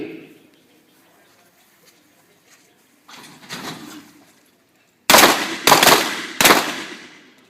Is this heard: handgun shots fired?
yes